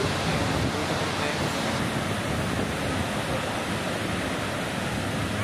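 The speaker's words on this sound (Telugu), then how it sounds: "So the beautiful బారాచుక్కి water falls in front of you guys." Bharachukki waterfall pours in a steady, loud, broad rushing roar that fills the scene without pause.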